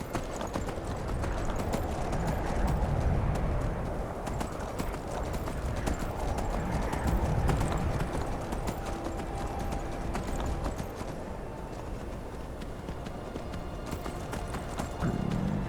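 Steady horse hooves clip-clopping at a brisk rhythm in modded Skyrim, fairly loud and close, with game ambience and brief low rumbles underneath.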